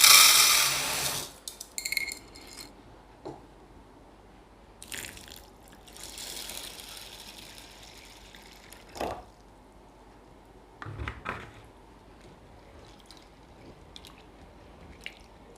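A glass (about 200 g) of toor dal being washed by hand in water: a loud splash of pouring at the start, then sparse squelches, drips and sloshing bursts separated by quiet gaps.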